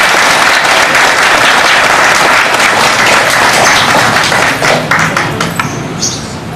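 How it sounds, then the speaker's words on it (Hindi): An audience at a Women's Day event gives loud, vigorous applause, a dense sustained roar of clapping that thins slightly toward the end. "जोरदार तालियों से इनका स्वागत करें।"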